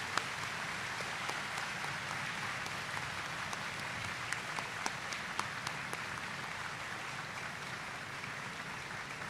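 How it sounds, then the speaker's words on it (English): Applause from an audience at a Veterans Day ceremony in a middle school, honouring veterans; soft, steady clapping fills the space, with a few sharper, closer claps standing out now and then. "Please, everyone, a round of applause for my compatriots."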